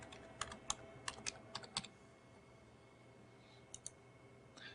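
Bursts of quick, crisp key taps on a computer keyboard, with one short flurry after another followed by a pause and a few final clicks, as a username and password are entered during a WinRadius setup.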